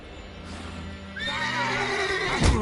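A horse in The Witcher 3 lets out a loud, close whinny that rises and wavers, with a snort and hoof sounds at the end and low game ambience underneath.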